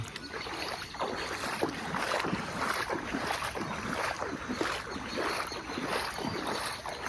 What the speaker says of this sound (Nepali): यहाँ हेर्न सक्नुहुन्छ बाटोमा पानी कस्तो कुदिरहेको छ